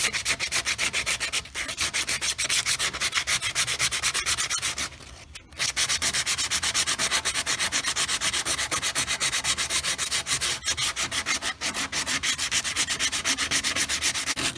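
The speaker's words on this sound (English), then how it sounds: "I'm using a sanding pad. I just folded it in half so I can do it by hand and smooth out all these edges" A folded sanding pad rubs by hand over resin and live edge wood, smoothing the edges in a loud, continuous rhythmic scratching with a brief pause partway through, with no voices.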